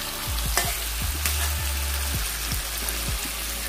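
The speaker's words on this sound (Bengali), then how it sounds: "পুরো মাংসটাকে আমি দিয়ে দিলাম তেলে" Pigeon meat sizzles and crackles loudly in hot oil, a steady frying hiss broken by a series of stirring scrapes and clicks, with a low hum underneath and no voices.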